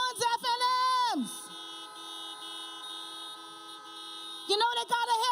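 Several car horns honk together at a political rally, sustained toots ringing out loud with a brief spell of overlapping blasts at the start and again near the end.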